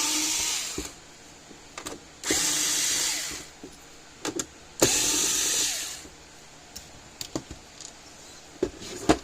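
Power driver backing screws out of a Patriot Solar Guard SG155 solar fence charger, a few separate close whirring bursts with clicks and handling noises between them.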